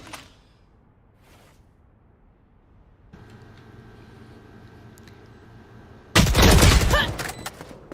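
Gunfire in the Valorant shooter game during a tournament match, a quiet stretch with faint clicks that ends in a sudden loud burst of rapid shots.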